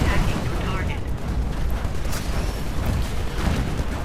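Cluster missile explosions go off in Titanfall during a close fight with enemy Titans, a dense, continuous roar of overlapping blasts and gunfire, loud and steady throughout with no gaps.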